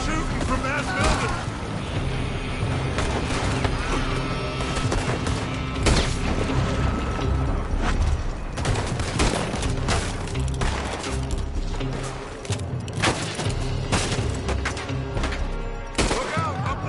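Sustained gunfire from a Red Dead Redemption 2 shootout, with dense repeated shots and booms running throughout, loud and close, mixed with game music and shouted voices.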